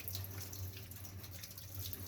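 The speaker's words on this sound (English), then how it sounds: "Now I'm going to clean it up with water." Water runs steadily from a tap over a copper printing plate during cleanup, a faint, continuous hiss and splash with no voices.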